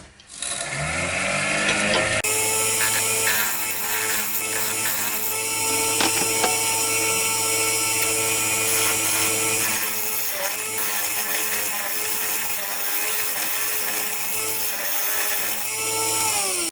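Steady whir of a woodturning lathe spinning a three-wood box while a tool or abrasive smooths small ridges inside it, a continuous close hum with faint rubbing scrapes and no talking.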